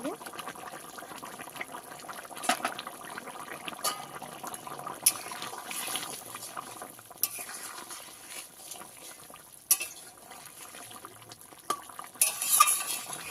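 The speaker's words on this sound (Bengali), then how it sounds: "ভালো করে সেদ্ধ হয়েছে একবার ফুটে উঠলেই নামিয়ে নেব" Fish and potato curry made with a 1.3 kg chandi fish comes to a boil in a pot, with soft bubbling and occasional stirring clinks and scrapes, fairly quiet throughout.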